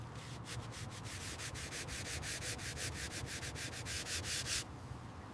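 Brush scrubbing the whitewall tire of a 1967 Chevrolet Impala, rapid rhythmic rasping strokes close up at a steady pace, stopping abruptly near the end.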